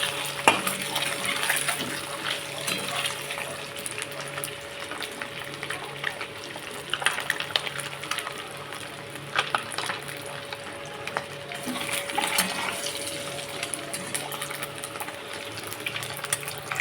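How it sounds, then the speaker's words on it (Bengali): An egg fries in a pan with a little turmeric, giving a soft, continuous crackling sizzle with scattered pops and stirring clicks throughout, faint and without talk. "ডিমটা অলমোস্ট ভাজা হয়ে গেছে, এবার এটাকে তুলে নেবো"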